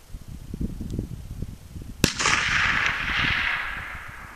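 One sharp, loud rifle crack from a Winchester 94 in 30-30 firing a 130 grain cast-bullet hand load at a distant target, followed by a long fading echo rolling out over open ground, with low rumbling background noise before the shot.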